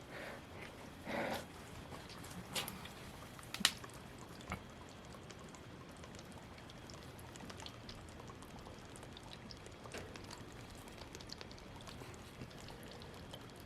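Water pouring steadily from a leak at an old repair spot in a flooded office, a faint continuous trickle with scattered drips and small knocks.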